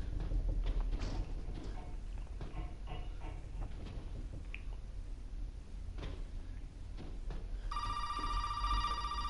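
A telephone rings inside the horror video game Resident Evil 7, a steady electronic ringing tone that enters near the end over a continuous low ambient rumble, with no talking.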